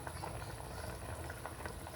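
Sinigang sa miso with salmon at a rolling boil in a pot, giving a steady, dense bubbling and simmering hiss that stays even throughout, close by and with no talking.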